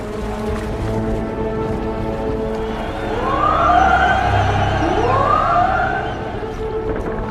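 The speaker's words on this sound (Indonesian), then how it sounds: "Semua kapal itu menyalakan klakson-klakson mereka sebagai tanda keberhasilan." Ship horns sounding from vessels off a beach, as soldiers board after an evacuation; several rising and falling tonal blasts overlap in the middle, fairly loud over a steady background hum, with no talk.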